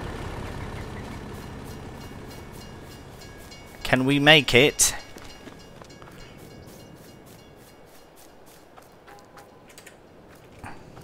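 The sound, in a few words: train passing in video game Farming Simulator 22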